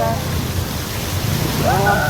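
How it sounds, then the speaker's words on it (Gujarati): Heavy rain pours down in Rajkot, a loud, close, steady wash of noise with a voice briefly audible over it near the end. "વરસાદ તો જો પાણી પાણી કરી નાખ્યું જબરદસ્ત"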